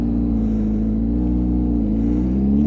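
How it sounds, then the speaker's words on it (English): A slow car drives past on the road, its low engine rumble steady and loud under a motorcycle's constant drone, with no speech. "That is coming, the slow car"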